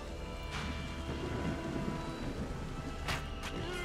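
Steady rain pours through a stormy scene in the RPG Wartales, with brief bright crackles of thunder or lightning striking near the end, all at a constant, dense level without talk.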